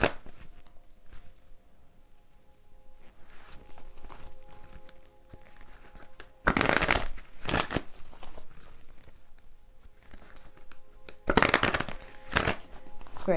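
Tarot cards are shuffled close by in bursts of crisp riffling and flapping, with two loud flurries separated by quieter rustling and handling.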